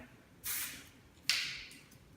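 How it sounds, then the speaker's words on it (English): Two short bursts of hairspray hiss out close by, each about a third of a second, separated by a brief pause. "I'm going to finish with a little bit of hairspray from the finishing spray."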